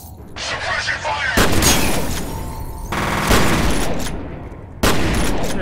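Bursts of rapid gunfire and heavy blasts in the shooter game F.E.A.R., loud and dense, broken by short pauses as combat continues.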